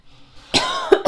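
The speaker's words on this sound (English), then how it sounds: "sorry about the cough" A woman coughs once, close and loud, a short harsh burst that breaks off and then returns as two quick follow-up coughs, with no talking around it.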